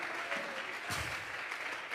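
Church congregation applauding as an offering of praise, a steady wash of clapping with a brief swell near the middle, somewhat distant and reverberant.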